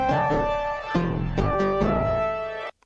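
Old recorded audio, pitched up without changing speed, plays alone as a steady harmonic-rich tone with shifting notes, a few sharp breaks, and an abrupt cutoff near the end.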